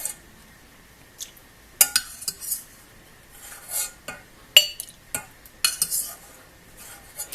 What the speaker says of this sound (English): You get a big cup. You just scoop as much bubbles as you want.